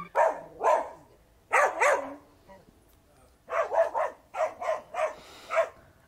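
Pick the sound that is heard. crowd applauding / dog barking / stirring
dog barking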